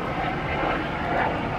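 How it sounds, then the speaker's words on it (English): A helicopter flying close overhead gives a steady, loud, broadband engine and rotor roar that fills the whole short stretch with no talking over it. "Now the chopper's right over here next to me."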